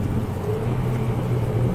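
A Renault Clio 4 RS 200 EDC with automatic gearbox, driven on a lap in sport mode, giving a close, steady low engine rumble with road noise, with no voices over it.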